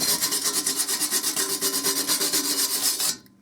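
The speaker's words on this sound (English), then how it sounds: "you can even use the wire brush" A wire brush scrubs an aluminium surface in quick, even strokes, roughly twenty harsh scratching passes close up, stopping abruptly near the end with no talking.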